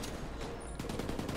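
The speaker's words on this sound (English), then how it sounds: "This gun's recoil is insane!" Continuous rapid gunfire from a high-rate-of-fire gun in The Division 2, a dense steady burst with strong recoil-driven crackle throughout, loud and close with no talk over it.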